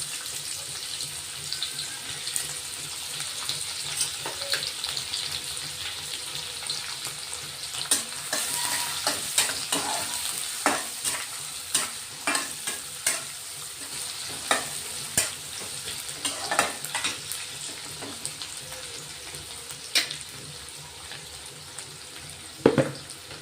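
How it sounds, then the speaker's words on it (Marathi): Finely chopped onion sizzles in hot oil with mustard seeds and cumin, a steady close hiss with intermittent spoon scrapes and stirring clicks, no talk. "गरम झालेलं आहे, मोहरी टाकून घेतोय, जिरे, एक कांदा घेतला आहे बारीक"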